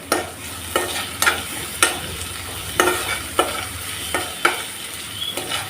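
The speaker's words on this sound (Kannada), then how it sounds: "ಟೊಮೆಟೊ ಹಾಕಿ ಅದು ಸಹ ಅದರ ಹಸಿ ವಾಸನೆ ಹೋಗೋರೆಗೂ ಫ್ರೈ ಮಾಡ್ಕೊಳ್ಬೇಕು" Onion and tomato fry in a pan as a spoon stirs them, with a steady sizzle broken by about a dozen sharp scraping strokes at a loose, irregular rhythm. The sound is close and there is no talking.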